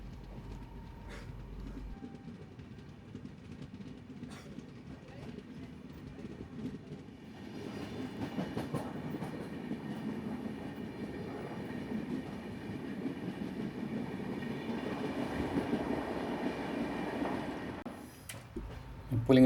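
The 12134 Mangaluru–Mumbai Superfast train on the Konkan Railway runs into the Baindur tunnel, a steady rumble and rattle of wheels that swells louder and more enclosed as it continues, with faint talk early on.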